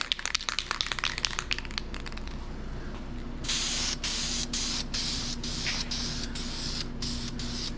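An aerosol can of VHT roll bar and chassis black sprays onto a 1955 Chevy chassis in a garage. It gives loud hissing bursts in a row with short gaps between them, and a few rattles and clicks come before the spraying starts.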